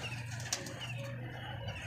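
Pigeons, including a pink-dyed bird, around a plaza loft, with soft faint cooing and a brief flutter of wings against a low steady background hum.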